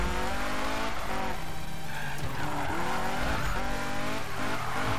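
A 1996 or 2015 Mazda MX-5 drifts in a racing game, with continuous tire squeal over a steady engine drone and shifting revs throughout.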